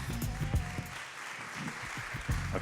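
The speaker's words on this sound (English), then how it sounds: "You can continue to applaud them," An audience claps for panelists taking the stage at a startup panel event, a modest, steady spread of applause heard at a distance with low rumbling room noise.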